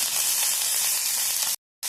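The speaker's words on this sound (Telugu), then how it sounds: "ఇప్పుడు కరివేపాకు వేసుకుందాం" Curry leaves dropped into hot oil for a tempering of mustard, chillies and dals, meant for a green gram dal with grated coconut. They give a loud, steady, dense sizzle that cuts out abruptly for a moment near the end.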